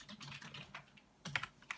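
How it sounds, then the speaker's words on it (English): Keys on a computer keyboard tap in short bursts while a name is typed into a spreadsheet cell, quiet and close, with a brief pause before a final few strokes. "go ahead and type Alex"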